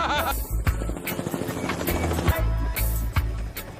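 An aircraft engine drones steadily as a plane sets off in an action film scene, loud and continuous, with several sharp effect hits and a busy layered soundtrack around it.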